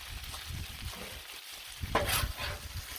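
Chili mac with stewed tomatoes being stirred on a Blackstone griddle, a steady close sizzle under repeated scraping and mixing strokes, with a brighter burst of frying partway through.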